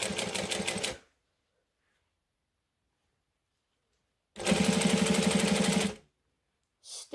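A sewing machine stitches around a strap toward a D-ring, running in two steady bursts of rapid, even needle strokes with a pause between them and a brief restart at the end, close and fairly loud.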